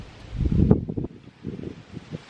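Gusty outdoor wind buffets the microphone with a low, rough rumble and a rustling hiss, swelling and easing over a couple of seconds with no one talking.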